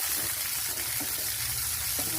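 A tempering for a green bean and dill leaf palya splutters and sizzles in the pan as a steady, fairly soft frying hiss with small crackles, and a faint voice briefly shows through.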